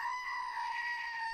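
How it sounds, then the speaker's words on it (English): A screaming goat novelty toy clicked on a counter lets out one sustained, nasal, high-pitched bleating scream that holds steady and loud for the whole moment, with no talking over it. "I'll bring the screaming goat along and we can laugh together."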